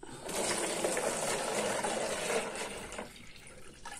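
Water poured into a container while preparing a sugar solution for calibrating a RAPT Pill hydrometer; a steady, close gush runs for about three seconds, then tapers off into quieter trickling.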